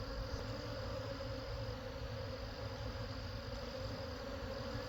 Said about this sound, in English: there are so many bees in this hive